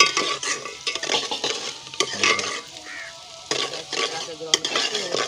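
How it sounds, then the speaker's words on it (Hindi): Onion and coriander sizzling and frying in ghee in a pan, with steady crackling and stirring scrapes of a utensil, close up and continuous. "ये घी के अंदर प्याज और धनिया भी आ चुके हैं"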